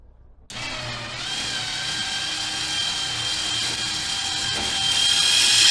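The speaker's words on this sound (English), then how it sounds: "So this last little pull should bring it all the way up." A floor winch whines steadily as it drags a Dodge Challenger up onto a Wildfire lift, a sustained mechanical motor tone after a brief silence, growing slightly louder toward the end, with no talking.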